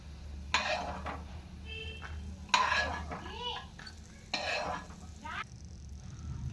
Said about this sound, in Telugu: ఈ పల్లీలు వేయించుకుందాం ఫస్ట్